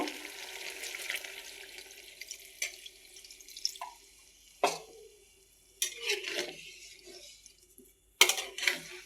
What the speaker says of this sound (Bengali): এখন আমি একটু ঝোলের পানি দিয়ে দিবো